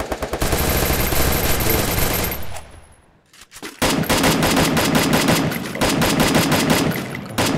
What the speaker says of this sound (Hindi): वो देखो पीछे से गोलियाँ पड़ रही हैं उसको